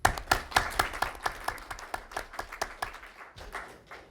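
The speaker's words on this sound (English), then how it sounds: "So quick round of applause for those folks." Sparse, rhythmic clapping from a small audience at a venture capital panel event, a few dozen sharp claps in quick succession, fading slightly toward the end.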